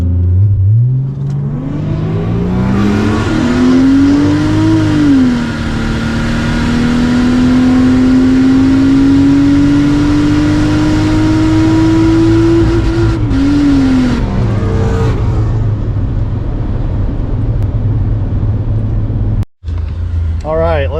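A Chevrolet Trailblazer SS with the Atlas 4200 engine launches on a quarter-mile drag strip, the engine climbing loudly through gears with a long sustained howl, close and powerful, then lifting off as it passes and fades.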